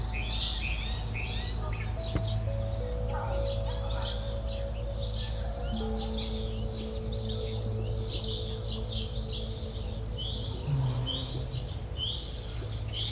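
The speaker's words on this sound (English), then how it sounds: "Did you hear all the birds?" Many birds sing and chirp outdoors on a sanctuary farm, a dense, steady chorus of overlapping tweets and calls over a low, constant background hum, with no voices.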